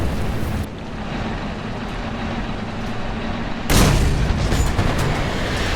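Artillery fire hitting a player's Maus tank in the tank combat game War Thunder: a steady, heavy rumble of engine and battle noise, then a sudden loud boom near the middle, followed by a louder, harsher roar.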